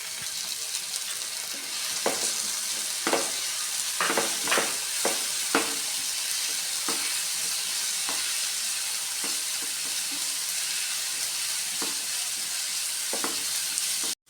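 Onions fry with a ginger, garlic and green chilli paste for egg fried rice, a steady hissing sizzle broken by repeated scraping stirs of a spoon against the pan.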